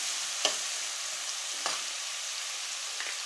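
Onions and a big tomato frying in a pan for capsicum palya, a steady broadband sizzle with a few sharp stirring clinks and scrapes spaced across it, close and moderately loud, no voices.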